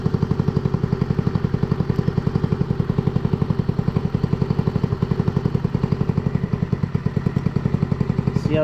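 Stock GY6 150 scooter engine idling with its CVK carburetor being adjusted: a steady, close, throbbing idle with an even rapid pulse throughout and no talk.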